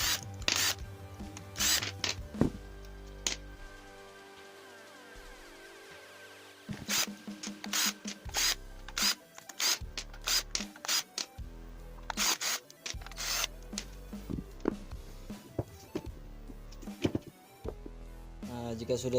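JLD 48V brushless impact wrench being taken apart, its four casing bolts removed: repeated sharp clicks, rattles and scraping of tools and plastic parts up close, in irregular bursts with short quiet gaps.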